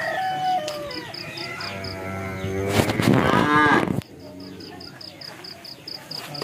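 A cow moos nearby in a village setting, giving a long, loud, drawn-out low call in the middle while quieter background calls and a faint repeating beep run throughout.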